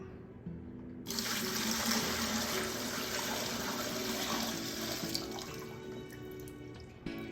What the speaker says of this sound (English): hold down your filter here, and just pour it all into your bucket